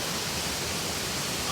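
Roaring rush of Kirinyaga waterfall, a small drop of about two meters on the Thiba River, heard from its base as a loud, steady broadband wash with no break.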